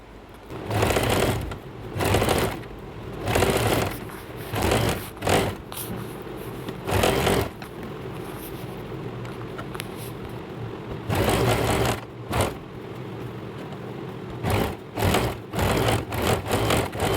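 A sewing machine top-stitches a kurti in repeated close, loud runs of rapid stitching, broken by short pauses and brief stops, with one longer steady stretch partway through.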